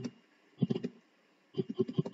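Two quick bursts of close, soft keystrokes on a computer keyboard while code is being typed, separated by a short pause with near silence.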